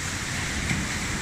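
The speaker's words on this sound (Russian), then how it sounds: "такие волны вообще классные" Mediterranean sea waves at night on a hotel beach in Avsallar, a steady, close wash of surf that fills the clip with an even rushing hiss and no breaks.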